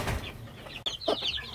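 Close, soft clucking from a flock of chickens, with high chirps mixed in, in a farmyard. The calls come in short, irregular bursts against low background noise.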